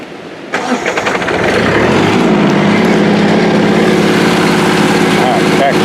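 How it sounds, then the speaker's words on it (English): A Kubota B2400 tractor engine starts: a brief cranking whir, then the diesel catches and settles into a loud, steady, close idle that continues to the end. "So we'll go ahead, fire the tractor up."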